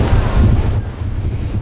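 Storm wind roars hard against the microphone on the southwest English coast during the strongest storm in 26 years, with big waves likely surging in beneath a loud, continuous, buffeting rumble.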